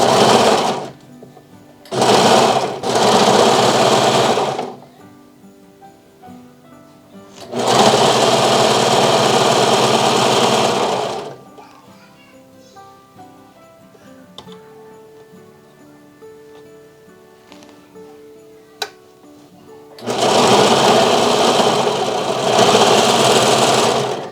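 A Vevor industrial sewing machine stitches fabric in loud bursts, with three short runs, a longer run, and a final sustained run, separated by quieter pauses of faint handling sounds.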